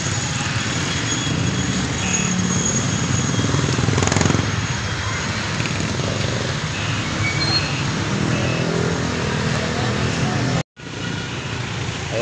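Motorcycles of a group ride idle and rumble outside a Jollibee restaurant, a steady engine drone with traffic noise that runs continuously and cuts out briefly near the end.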